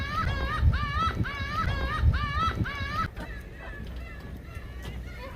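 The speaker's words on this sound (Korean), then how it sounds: "짙은 갈매기들의 울음소리가 나를 재촉합니다." Gull-like cries repeat in a rhythmic series of rising, wavering calls over low rumbling background noise, then fade into quieter ambience.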